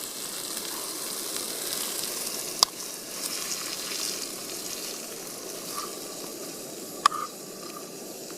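Paneer frying in hot oil at a camp cookery setting, with a steady close sizzle throughout and two sharp clicks or taps breaking through.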